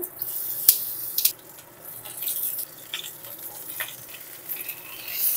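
Pointed gourd (potol) frying in oil, a constant crackling sizzle broken by sharp spits and a few utensil clatters, moderately loud and close, with no talking.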